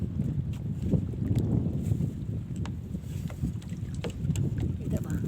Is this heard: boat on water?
yes